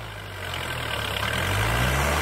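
A 4x4 tractor engine labours under load while trying to lift with a plough in the ground, a heavy, droning rumble that builds steadily louder over two seconds.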